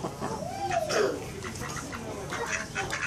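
Ducks quack a few times outdoors, moderately close and not very loud, with faint background noise.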